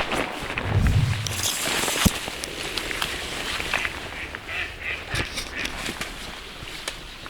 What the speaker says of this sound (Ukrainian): Ух, які дикі качки